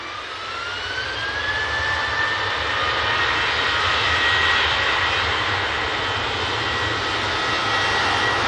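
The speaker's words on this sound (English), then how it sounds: "Snazzy looking BizJet." A business jet passes over an airport, its engines giving a loud, steady roar with a rising whine that holds throughout, close and without voices.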